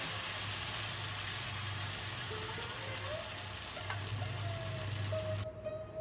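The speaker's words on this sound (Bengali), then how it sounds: "ওই একইভাবে সমস্তগুলো ভেজে নেব।" Banana pancakes frying on an oiled tawa, a soft, steady sizzle throughout with faint kitchen clinks at low volume.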